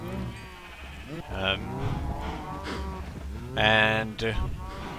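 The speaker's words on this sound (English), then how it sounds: "we have this cow farm since not too long ago" Minecraft cows on a cow farm lowing in several overlapping moos, close and fairly loud, with a longer louder call near the end, heard beneath someone speaking.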